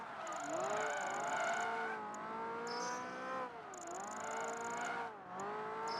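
A car engine in Project Gotham Racing 3 revs through gear changes in Vegas, the pitch climbing and dipping in several smooth sweeps, steady and close, with faint high tones above.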